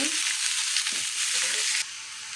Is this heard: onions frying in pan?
yes